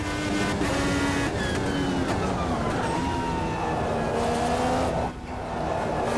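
An IndyCar race car engine in Automobilista 2, a high-pitched whine that sweeps up and down through the gears. Loud and continuous, it briefly dips near the end as the car lifts off.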